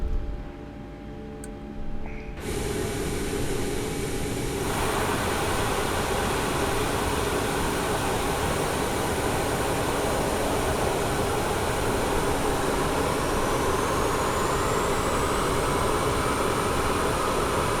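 Engine 2 of a Boeing 737 MAX-8 spools up during start in Microsoft Flight Simulator 2020, a broadband turbine roar that swells after about two seconds and then holds steady and loud, with a faint rising whine above it.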